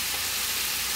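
Spices sizzle in hot oil for a jackfruit curry, a steady, dense hiss heard up close and alone, with no pauses.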